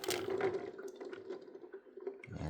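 Water trickling and dripping at a kitchen stove while salted eggs are prepared for boiling, a faint, close, wet patter with a thin steady tone beneath and no voices.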